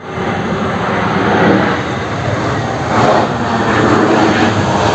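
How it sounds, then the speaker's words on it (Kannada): An airplane passes close overhead with a steady, loud roar of engine noise. The roar swells slightly around its peak and holds throughout, with no talking. "ಹತ್ತಿರದಿಂದ ಫ್ಲೈಟ್ ಅಷ್ಟೇ ನೋಡೋಕ್ಕಾಗತ್ತೆ ಅನ್ಕೋತೀನಿ ಇದೆ ಸ್ವಲ್ಪ ಹತ್ತಿರದಲ್ಲಿ ಹೋಗಿರೋದು"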